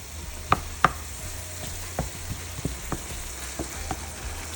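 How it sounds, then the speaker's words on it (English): Ground beef and chopped celery sizzle steadily in a pan with scattered sharp clicks and taps of a utensil stirring, close by and without talk. "Let's brown our ground beef with our celery, chopped up celery."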